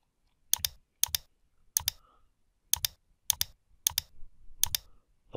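A computer mouse clicks a few times during a copy-and-paste task: seven sharp double clicks, each a quick pair of taps, spaced about half a second to a second apart in a quiet room.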